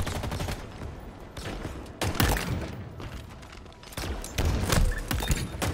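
Rapid bursts of gunfire in the video game Halo Infinite during an intense multiplayer match, sharp repeated volleys and thuds coming in waves, loud and close, with no talking over them.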